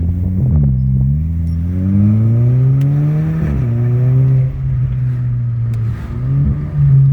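Engine of a car with a DSG7 DQ200 dual-clutch gearbox revving through a downshift, a loud steady drone whose pitch sweeps up sharply with each blip and settles back, heard close throughout with no talk.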